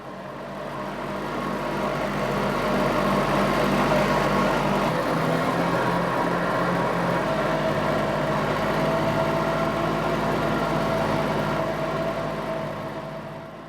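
A tractor mowing a wildflower paddock on a smallholding gives a steady, loud engine drone with a low rumble that holds unbroken throughout, fading in at the start and out at the end.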